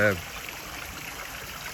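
Koi pond water flows through a UV filter into a shower filter tower. It makes a steady, fairly loud rushing trickle, heard alone after a voice cuts off at the start.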